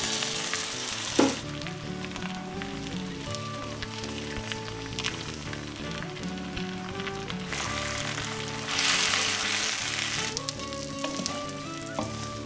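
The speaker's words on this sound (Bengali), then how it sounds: "ভালো করে নেড়েচেড়ে ঢাকা দিয়ে দিয়ে 5 মিনিট মশলার সঙ্গে মাথাটা কষাতে হবে" A fish head frying with spices in a pan for a rice dish: a continuous close sizzle and crackle with occasional stirring scrapes, a sharp clink near the start and a louder burst of frying later on, under faint background tones and no talk.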